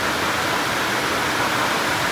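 Heavy monsoon rain at a Konkan railway station, with water pouring off the sheet-metal roof as an unbroken, loud broadband roar and splash that stays constant throughout.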